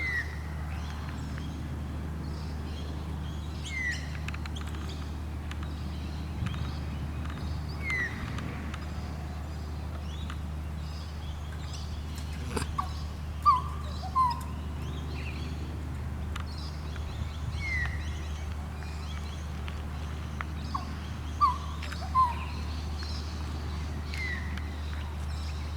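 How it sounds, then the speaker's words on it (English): Birds in Moorooka give scattered short chirps and song notes at moderate distance, spaced irregularly over a constant low background hum. "Oh, they're going to sing for us. They have beautiful songs."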